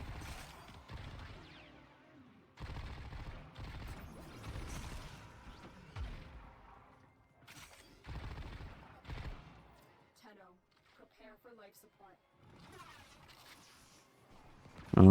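Primary weapon gunfire in the video game Warframe, bursts of rapid shots recurring across the clip, mixed with game effects and someone talking over much of it.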